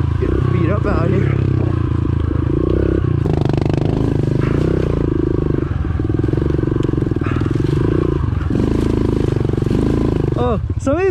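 A pit bike rides a hard enduro track with a loud, constant engine that revs and strains, plus clattering and scraping from rough terrain close to the microphone.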